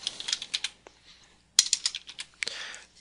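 Keys on a computer keyboard clatter in short close bursts of clicks with brief pauses between words, entering labels into a spreadsheet, and no one speaks.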